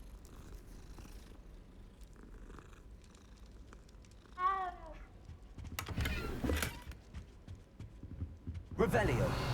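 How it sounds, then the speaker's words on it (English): A cat in the video game Hogwarts Legacy lets out a short rising meow amid game ambience, with other clattering effects and bursts of noise following. "Cat."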